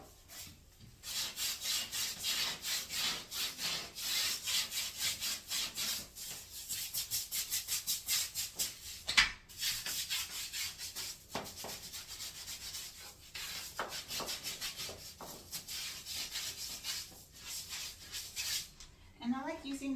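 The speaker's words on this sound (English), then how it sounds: "we're going to give it a little scrub first" A handheld scrub brush works over a bathroom surface in fast, continuous back-and-forth strokes, close and bristly, with a brief knock partway through.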